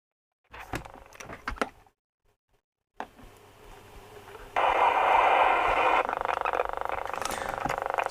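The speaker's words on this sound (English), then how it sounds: "I don't think you heard the signal tracer going, did you?" A signal tracer probing a Hacker RP17 Mini Herald radio gives out short crackly bursts, falls silent, then settles into a loud, steady broadband hiss and buzz that holds to the end.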